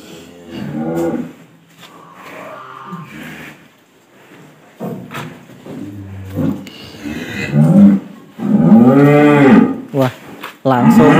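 Several loud, deep cow moos in succession, close by, with a few brief knocks between calls.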